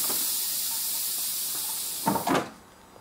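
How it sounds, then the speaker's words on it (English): A Skymaster F-16 model's pneumatic landing gear retracts with a steady close air hiss, then a pair of short mechanical thunks and a puff of air near the end before it falls quiet. "Doors coming up, or wheels coming up."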